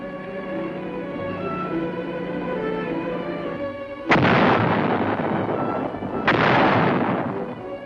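A transportable air-mobile howitzer fires twice, each shot a sudden loud boom with a long rumbling decay, heard over a sustained droning engine hum before the first blast.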